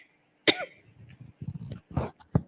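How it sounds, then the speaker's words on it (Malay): A single sharp cough bursts out near the mic, followed by a few softer throat-clearing sounds and smaller coughs, with quiet gaps between them. "Batuk sikit."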